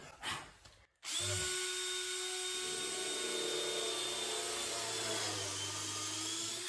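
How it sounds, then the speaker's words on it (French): A power drill bores a hole, whining at a steady high pitch for several seconds after a short start-up burst, loud and close with no talk. "J'ai percé, vous voyez, j'ai fait une espèce de carotte"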